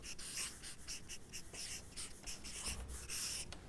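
A pen or marker writes notes in quick, steady scratching strokes with brief pauses between words, heard close up with no talking.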